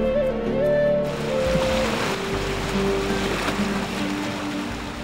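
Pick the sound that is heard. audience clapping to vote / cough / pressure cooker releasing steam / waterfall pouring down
waterfall pouring down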